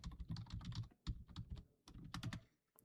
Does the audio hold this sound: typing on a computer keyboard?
yes